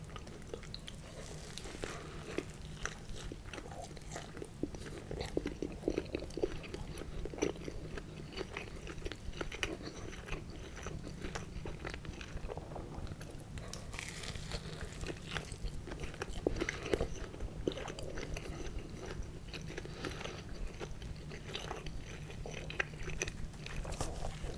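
A Reuben sandwich of corned beef, cheese and sauerkraut is bitten and chewed close to the mic: repeated soft crunches and wet squishy mastication across a long quiet stretch, with no talking.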